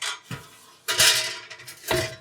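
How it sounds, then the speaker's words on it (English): Metal roasting tin clanking and scraping as it is lifted out of a hot oven, three separate bright metallic clatters in quick succession. "So I want to take the roasting tin out"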